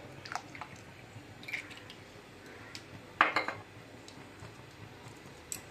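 A pot of filtered tamarind water set down on a gas stove, giving a single clear metallic clank followed by a few small rattles, faint kitchen clinks scattered around it, no talking.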